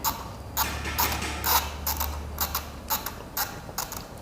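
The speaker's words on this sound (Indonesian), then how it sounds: "Kita putar saja secara manual seperti ini" A Theben SUL 181d mechanical timer dial is turned by hand, giving a close, regular run of small ratcheting clicks and creaks.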